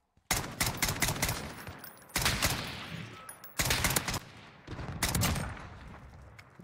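An AC-130 gunship weapon in a video game fires in four heavy bursts of rapid, loud shots, each with a booming tail that fades before the next burst.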